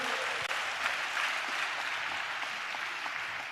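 A church congregation clapping in praise, dense, continuous applause from many hands at a moderate distance, with no voices over it.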